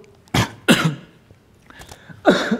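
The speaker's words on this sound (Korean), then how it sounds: "왜 갑자기 기침이?" Several sharp coughs and throat clearing from a person during a Sunday church sermon, loud and close, two quick bursts followed by another after a pause.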